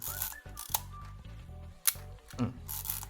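A Yashica Electro film camera's shutter clicks several times in quick succession at a high shutter speed, close and crisp, with faint mechanical whirring between them.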